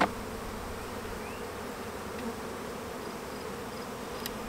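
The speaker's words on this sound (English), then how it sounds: "I'm going to take these bees and introduce them to a mated queen hive" Honeybees buzzing steadily at a hive with no mated queen, a dense continuous drone of many wings close to the microphone, holding an even level throughout with no voices.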